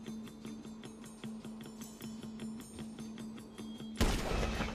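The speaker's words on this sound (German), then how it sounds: "Und der endgültige Schuss." Gunfire in the video game GTA 5: a single loud, sharp blast near the end breaks over a steady, rhythmic pulsing backdrop of game sound.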